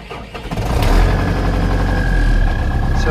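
An MTZ-82.1 tractor engine cranks and fires up, then settles into a loud, steady diesel idle with a continuous low rumble close by.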